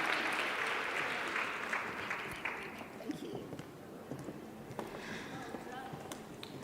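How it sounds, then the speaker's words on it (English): Conference audience applauding a final panel of speakers at the Standard Bank Top Women Conference, a dense, steady wash of many hands clapping that gradually thins and softens toward the end. "Another round of applause, everyone."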